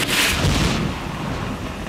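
Lightning strikes in the video game Stalker, a sharp crackling burst followed by a heavy rolling thunder rumble that slowly fades, loud and with no talk.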